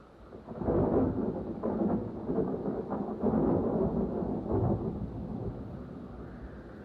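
Deep, rolling thunder rumbles through a spring storm in the Shenandoah hills, swelling and fading in long waves over a soft background hiss.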